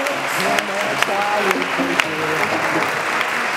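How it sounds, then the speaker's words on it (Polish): A crowd claps steadily and loudly throughout a senior ballroom dance competition in Gliwice, with tonal sounds and a voice audible beneath the applause. "Wielkie, wielkie brawa."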